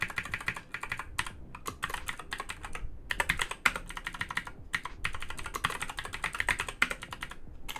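Steady typing on an aging computer keyboard, rapid uneven clacks in close-up bursts with short pauses between them, running throughout with no voices.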